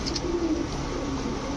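A pigeon coos softly at close range, giving a few low murmuring notes over a quiet background with faint chirps near the start.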